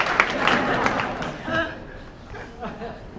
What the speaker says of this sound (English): You can clap for Sergey.